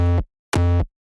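Two punchy, buzzy tom hits synthesized in Phase Plant with a distorted, boomy tone, separated by a short silence, loud and dry.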